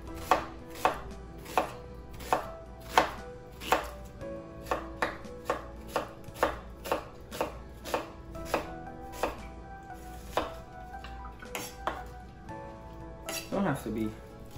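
Onions being chopped on a cutting board with a knife for a beef curry, a regular series of sharp, close knocks about every half second, with a clatter of utensils at the end.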